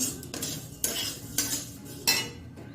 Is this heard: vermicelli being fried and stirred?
yes